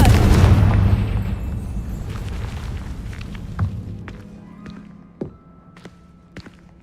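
A Confringo fire spell explodes in Hogwarts Legacy, a loud booming blast at the start that rumbles and fades over several seconds, followed by a few scattered thuds and light impacts.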